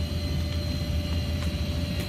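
Helicopter engine in a military video game near an airfield, a steady low droning hum with a constant rumble and a faint high whine, fairly loud and uninterrupted.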